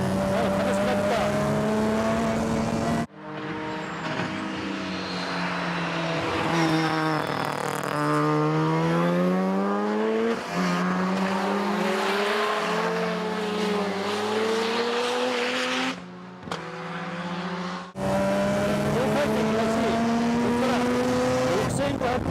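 A Mazda Chante kei car fitted with a 13B rotary engine, driven on a circuit in a time attack, rising and falling through the gears as its engine climbs steadily in pitch and then drops at the shifts, loud and close.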